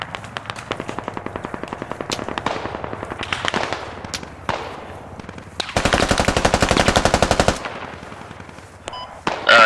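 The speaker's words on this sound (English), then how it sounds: "There is some sort of LMG." Light machine gun fire in the tactical shooter game Squad: rapid sustained automatic bursts with dense, evenly spaced rounds, including a long loud burst of nearly two seconds, over scattered distant shots and without talk.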